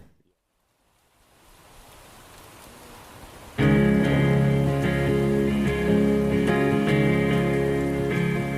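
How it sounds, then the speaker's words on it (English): Heavy rain bursts in abruptly after a near-silent start and a low rising hiss, becoming a loud, dense, continuous downpour with a steady tonal layer beneath it. "On the last morning, it rains as hard as I've ever seen."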